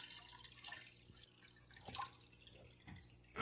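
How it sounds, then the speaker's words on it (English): Water poured out of a fish acclimation container for a freshwater puffer, a soft continuous trickling and splashing close by with a few brighter drips, no talk. "I'm going to pour some of this water out."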